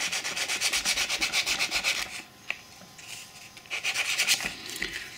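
P120 grit sandpaper rubs back and forth over the small roof of an OO gauge model police box, with quick rhythmic close strokes, a brief pause with a small tap, then more scrubbing.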